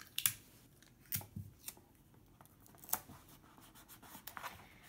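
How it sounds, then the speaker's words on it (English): Tape being pulled and pressed down to secure wiring across the back of a haunted house build: scattered close crinkles, rips and rubbing sounds in a quiet room, with no talking. "and tape it down."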